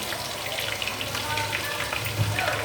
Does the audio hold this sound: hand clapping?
no